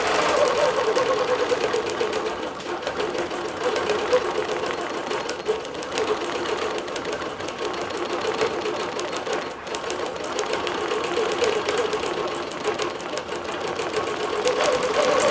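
A longarm digital quilting machine runs steadily, stitching a bellflower pattern across a small swing lap quilt, its fast mechanical whir and rattle continuing evenly and close throughout.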